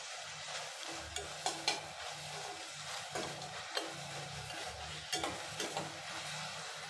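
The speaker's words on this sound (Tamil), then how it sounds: "கொஞ்சம் உப்பு சேர்த்துட்டு நல்லா வதக்கி விடலாம்." Tomatoes with salt sautéing in a pan for a bitter gourd tamarind curry, a steady close sizzle with intermittent scraping and clinking of a spatula stirring against the pan.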